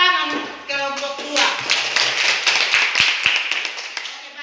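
A class applauds a student group after their chemistry presentation, with scattered hand claps building into a loose round of applause mixed with some voices.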